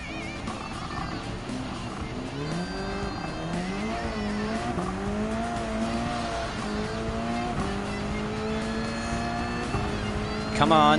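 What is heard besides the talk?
race cars and tire squeal in video game Gran Turismo 7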